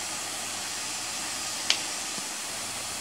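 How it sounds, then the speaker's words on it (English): Steady, loud hiss of a steam mop machine releasing a continuous jet of steam while its button is held down, with a brief click partway through and no talk. "right now we're holding down the button to keep it steaming, but as you can see, it's quite powerful"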